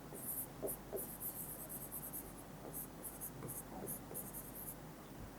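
Pen writing by hand on paper while working a maths problem, a steady soft scratching of short strokes and pauses at close range, fairly quiet with a faint background hum and no talk.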